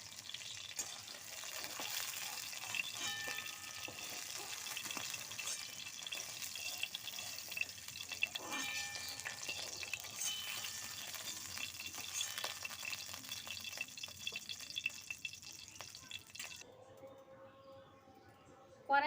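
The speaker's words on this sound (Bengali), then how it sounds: "আমটা আমি হালকা করে ভেজে নেবো, খুব বেশি ভাজবো না।" Mango pieces fry lightly in hot oil in a pan, giving a steady, close sizzle with occasional stirring scrapes that runs throughout before quieting near the end.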